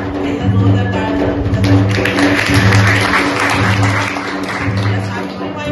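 An audience at a college Shivaji Jayanti celebration claps loudly in a continuous wash of applause. A voice talks faintly underneath it.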